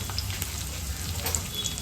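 Chopped onion fries in hot ghee in a pan with a steady crackling sizzle, close up, while occasional soft stirring scrapes cut through the hiss.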